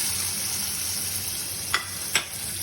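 Onion going into a pan of hot oil gives a steady, moderate sizzle with two sharp clicks of utensil contact near the end; no talking.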